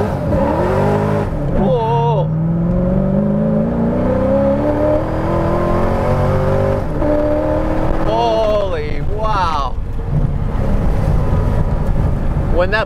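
A supercharged LS-swapped Nissan 240sx drag car with an S15 front accelerates hard, its engine climbing loudly through rising pitch with gear changes and renewed pulls, a steady roar throughout from inside the car.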